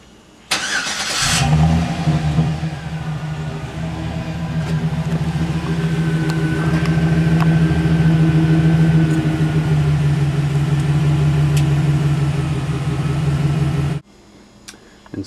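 A 2009 GMC Sierra pickup with the 5.3-liter V8 and standard exhaust starts up and then idles steadily with a deep, even rumble. The engine sounds close and loud for about twelve seconds before cutting off.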